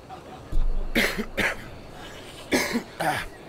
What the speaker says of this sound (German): Husten.